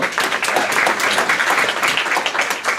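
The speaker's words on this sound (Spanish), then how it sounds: "Fuertes palmas, por favor." Applause from an audience at the presentation of a university criminal-law studies workshop in Lima, a steady dense wash of clapping filling the whole stretch with no voice over it.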